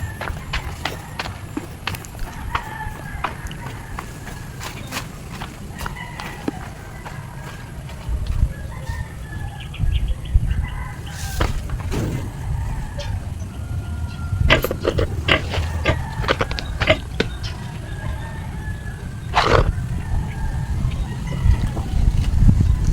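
A backyard piggery carries grunting pigs and clucking chickens at close to mid range, with scattered animal calls and footsteps over a constant rumbling background for the whole stretch.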